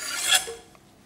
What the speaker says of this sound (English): So the pears now get tossed into the pan.